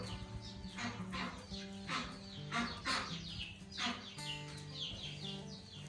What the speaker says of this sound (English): Those chicks are noisy, huh?